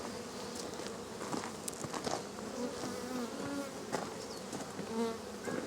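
Honeybees buzz around an opened hive during an inspection, a dense, continuous hum of many insects with individual bees droning closer now and then.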